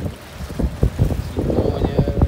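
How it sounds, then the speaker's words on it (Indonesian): Strong wind buffets a small fishing boat out at sea in rough waves, a steady roaring rush with irregular thumps and splashes close to the microphone and no voices. "Macam sekarang ni angin kuat, gelombang."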